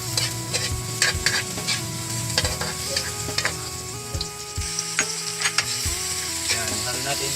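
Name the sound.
stirring fried galunggong fish with onion and tomato in pan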